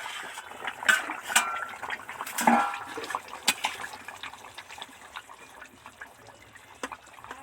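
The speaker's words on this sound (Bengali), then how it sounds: "এবার দেখুন কি হচ্ছে তরকারি টুকবুক টকবক করে ফুটছে" A Bengali fish curry with potato, aubergine and bori simmers in a pot, giving off soft irregular bubbling pops and liquid gurgles at close range, steady but fairly quiet, with no talk.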